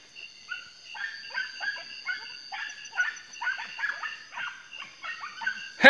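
Several hunting dogs bark and yelp continuously in an excited, overlapping chorus during a hunt, some distance away, with high-pitched whines mixed in.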